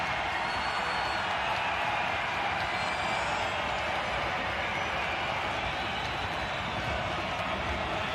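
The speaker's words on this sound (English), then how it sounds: "You could just hear the crowd." Crowd noise from the stands at an MLS Cup playoff soccer match between Houston Dynamo and Sporting KC, a continuous distant roar with broadcast commentary audible over it.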